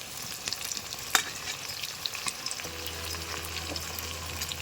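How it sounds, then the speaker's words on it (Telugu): Tomato pieces frying with onions in a pan for a fish curry, a steady dense sizzle with scattered crackles and a low hum joining partway through, no talking. "ఇప్పుడు టమాటా ముక్కలు వేసుకుందాం."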